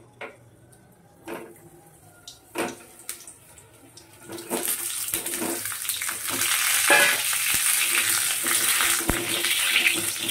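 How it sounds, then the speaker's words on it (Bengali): Boiled potato frying in hot oil in a home kitchen, starting with scattered clinks and light sizzle, then building into a loud, steady crackling hiss up close for the rest of the clip. "এবার আমি এই তেলে একইভাবে আলুটা ভেজে নেব"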